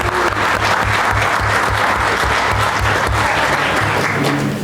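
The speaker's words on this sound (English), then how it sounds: "We'll give him a round of applause." An audience at a school board of education meeting claps for a first-grade student named Connor, a steady, dense round of applause that fills the room while a low hum runs underneath.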